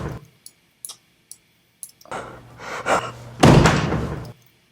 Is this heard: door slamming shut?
yes